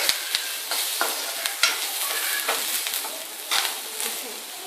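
Onion and tomato frying in a pan for a moong dal sambar, a steady close sizzle broken by scraping stirs of a spoon, with no talk.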